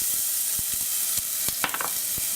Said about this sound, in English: we're going to put about 1 tablespoon of olive oil in the bottom of my pan, which is hot. I'm going to add the shallots